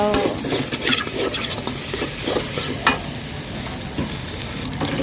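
Fermented pork (naem) stir-fried with egg and glass noodles sizzles loudly in a pan, with repeated scraping and clinking of a spatula stirring against the metal throughout.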